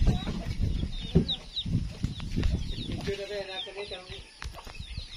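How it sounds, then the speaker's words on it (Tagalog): Chickens cluck in a typhoon-damaged community, several short clucks and calls at moderate distance, partly under nearby talk and rustling. "Uy, mga manok."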